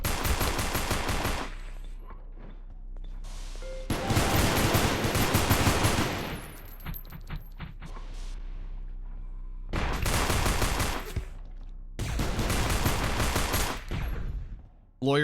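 Sustained bursts of automatic gunfire from a nuclear operatives firefight in the space-station game Space Station 14, with dense volleys separated by brief pauses of quieter background noise.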